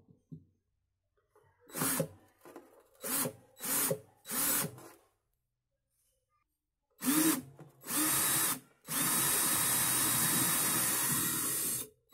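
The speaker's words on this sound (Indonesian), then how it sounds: "jadi kita bor dulu" Several short bursts of a power drill biting into the wood of an acoustic guitar, then a longer sustained whine of drilling, close and loud with pauses between runs.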